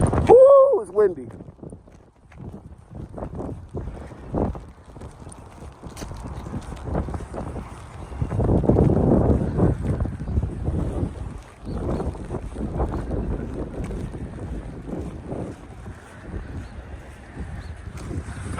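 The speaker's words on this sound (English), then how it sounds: "Woo, it's windy." Strong outdoor wind buffets a microphone on a street walk in Brighton, NY, in uneven gusty bursts of low roaring noise, with a person talking at times.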